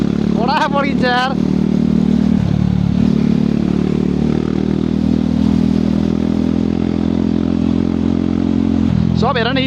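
Continuous close engine drone of a 390 motorcycle being ridden around Pokhara, with crackling pops over the roar; people talk briefly at the beginning and again at the end.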